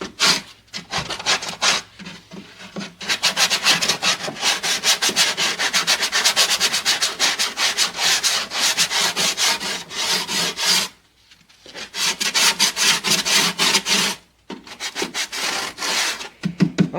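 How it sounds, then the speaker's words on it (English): Hand sanding of wood with a sanding block to remove excess wood from a hallway floor, steady rasping strokes that run continuously with two brief pauses, close and fairly loud with no talk. "I'm going to take this sand block and get the excess wood off."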